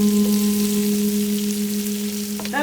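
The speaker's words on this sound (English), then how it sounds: "add the green chili. Then keep frying." Green chili frying in oil for Indian-style momo soup, a steady close sizzle with crackling spatters throughout, plus a faint steady hum underneath and a brief clatter near the end.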